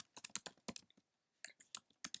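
Keys clatter on a computer keyboard as code is typed, quick bursts of close, crisp clicks broken by a short pause.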